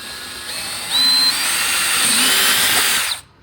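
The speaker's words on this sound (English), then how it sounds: "So you're going to take a 1/4 inch drill bit, line it up, hold it in place," A power drill fitted with a 1/4 inch bit whines up and bores straight through for about two seconds, loud and close, then stops abruptly.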